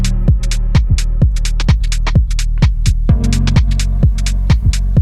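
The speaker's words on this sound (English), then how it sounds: "Nothing fancy, just a little wavetable chord stab with some reverb and some sidechain ducking on it." A house beat built in Ableton, with a steady four-on-the-floor kick pumping under sidechain-ducked wavetable chord stabs that carry some reverb. It plays loud and continuous, with no voices.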